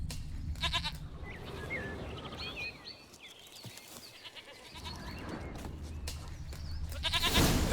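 A goat in The Witcher 3 bleats in short, quavering cries near the start and again loudly at the end, with faint bird chirps and quiet outdoor ambience in between.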